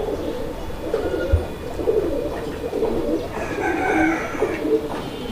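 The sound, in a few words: pair of Chila pigeons cooing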